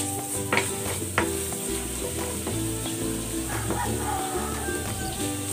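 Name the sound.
garlic sautéing in cooking oil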